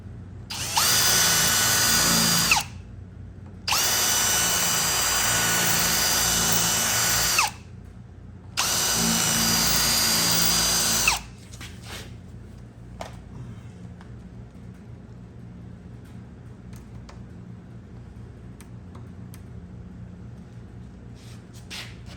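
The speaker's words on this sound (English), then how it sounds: "I'm going to drill that hole out a little bit more." A power drill whines loudly in three steady bursts with short pauses between, enlarging a hole in a 1964-65 Mercury Comet's metal trunk lid, then stops, leaving faint handling noises and light taps.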